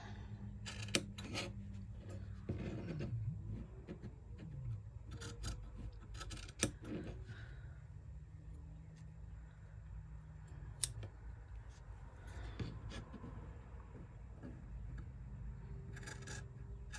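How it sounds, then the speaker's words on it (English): Scissors snip through fabric for a sewn pouch's lining, quiet, close, separate cuts with soft rubbing and handling sounds between them, scattered across a hushed room with no talk. "then you just take your scissors"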